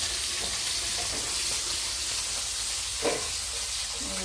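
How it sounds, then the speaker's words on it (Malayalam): Steady hiss of running tap water while dishes are washed in a home kitchen, a continuous close wash of noise with one brief clatter near the end and no voices. "ഞാൻ പാത്രങ്ങൾ കഴുകി കൊടുക്കട്ടെ"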